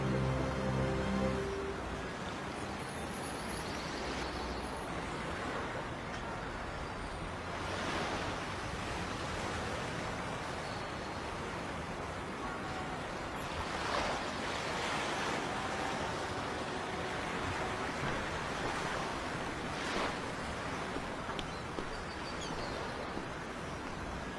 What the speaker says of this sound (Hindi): इन लहरों की आवाज नहीं सुन सकते?